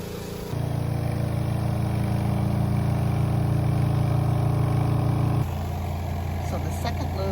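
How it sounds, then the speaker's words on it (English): A washing machine spins its second laundry load, run off a solar battery pack in an off-grid setup: a loud, steady motor drone that holds a constant hum, then shifts pitch and eases slightly near the end. "So the second load is now spinning."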